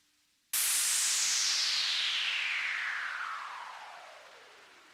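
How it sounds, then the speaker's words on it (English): A sudden loud burst of hissing noise from a Eurorack modular synthesizer starts bright and sweeps steadily downward in pitch, fading and darkening over several seconds. "That is called a noise sweep"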